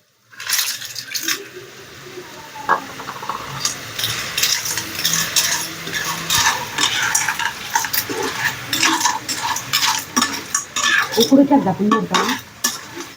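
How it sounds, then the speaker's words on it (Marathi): Clams poured into a pot and stirred for a Goan-style home dish, with steady scraping and clinking of a utensil against the pot over a soft sizzle, no talking. "आता याच्यात तिसऱ्या ओतून घ्यायच्या."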